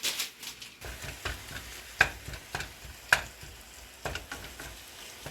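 Ground turkey sizzles in a pan while a utensil breaks it apart, with soft scraping strokes and several sharper clacks against the pan over a steady frying hiss, and no voices.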